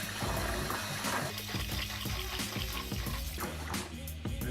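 Basmati rice being washed in a bowl or sink under running water, with continuous splashing, swishing and trickling as the grains are stirred, moderately close and steady throughout.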